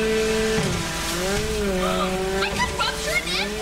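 A car pulls away in GTA 5, its engine climbing and falling in pitch as it revs up and drives off, loud and close. A voice comes in briefly toward the end.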